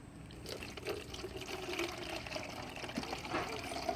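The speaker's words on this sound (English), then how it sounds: "So first we're going to be putting in water." Water poured into a plastic soda bottle for a homemade volcano, a faint steady liquid splashing and gurgling that runs for a few seconds.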